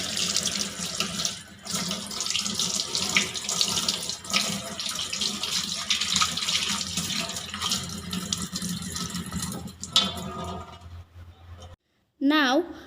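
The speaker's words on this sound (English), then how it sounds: "Now rinse the hand." Tap water runs steadily into a sink while hands are rinsed, a continuous close hiss and splash that stops near the end, followed by a brief voice.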